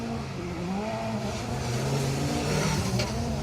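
A Mazda MX-5 rally car runs a stage at the Protyre Circuit Rally Championship, its mid-pitched engine revving up and down through gear changes, close and continuous.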